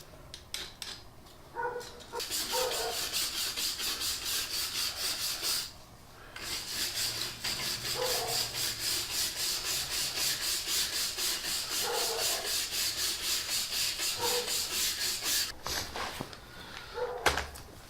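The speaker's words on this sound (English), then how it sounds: "start scraping off the old gasket material to get ready to put our new gasket on here" Old gasket material being scraped off the differential housing of a Dana 35 axle during a refurb, a steady close rasping scrape in long continuous strokes with brief pauses, no talk.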